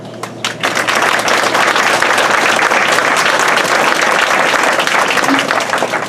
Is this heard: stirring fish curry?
no